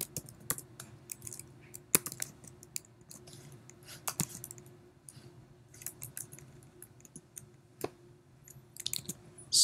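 Quiet, close clicking of keys being typed on a computer keyboard on a Mac, coming in uneven bursts with short pauses and no talking.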